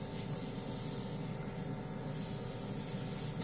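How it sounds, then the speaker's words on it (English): A $20 airbrush and compressor combo sprays paint with a steady, close, loud hiss that runs without a break for the whole stretch. "Let's see how it atomizes the paint."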